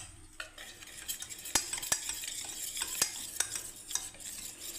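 Besan gram flour is mixed with water by hand into a batter, giving soft wet squelching and stirring with a few sharp clicks against a bowl, quiet and close with no talking.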